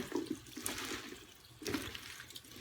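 Water running from a kitchen sink tap as food is rinsed during meal prep, with two brief splashy bursts a second apart and a steady wash of flow between them, moderately close.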